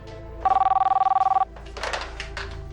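A telephone rings in one rapid, trilling burst of about a second, close and clear, followed by quieter shuffling room noise.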